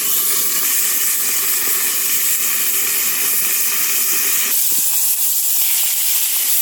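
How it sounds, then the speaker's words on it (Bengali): Cauliflower and beans fry in a pan, giving a constant loud sizzling hiss that continues without pause and with no talking. "এটাকেও ভালো করে ভেজে নেবো"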